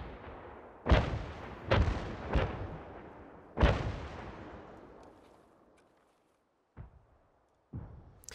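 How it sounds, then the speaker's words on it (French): Artillery bombardment in an escape-style shooter video game: four heavy booming blasts in quick succession with long rumbling decays, then a silent gap before two fainter, more distant impacts. "Ça tire sur moi? Faut que j'attende que le bombardement s'arrête."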